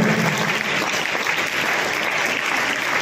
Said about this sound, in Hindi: इसलिए एक बार फिर से जोरदार तालियां